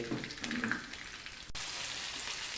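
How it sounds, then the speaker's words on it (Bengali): Cumin, bay leaf, chili and cloves sizzle in hot oil for a tilapia fish curry, giving a close, steady crackling fry with small spitting pops and a brief stir. "আমি জিরা দিয়ে দিয়েছি আর তেজপাতা লঙ্কা আর লবঙ্গ দিলাম"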